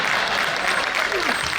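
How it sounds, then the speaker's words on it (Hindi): Audience applause at a Hindi poetry recital held at Tis Hazari Court, steady dense clapping filling the whole moment at close range. "ताली वाली मत बजाना"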